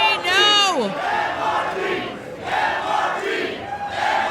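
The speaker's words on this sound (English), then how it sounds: "You can hear the crowd calling for it." Crowd at a live wrestling show chanting and calling out for a move, loud rhythmic group voices swelling in waves, with a high sliding whoop near the start.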